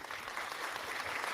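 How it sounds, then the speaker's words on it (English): Applause for sponsors on a live online show, a short, faint patter of clapping with no talk over it. "Walter, please give these sponsors a hand for sponsoring our Friday Live"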